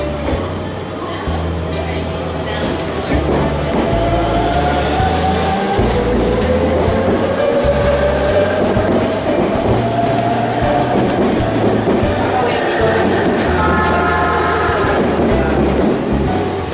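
A Tobu Spacia limited express train pulls away from a Japanese station platform, a steady rail rumble with rising motor whine and rhythmic wheel clatter, close and continuous throughout.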